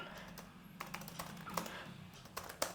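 Commands being typed on a computer keyboard in a Kali Linux terminal, a quiet run of scattered key clicks with short pauses, close and alone with no talk.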